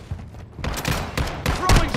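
Gunfire in the Call of Duty Warzone Resurgence battle royale, a few sharp shots and bursts close by over a busy game mix, with faint voices now and then.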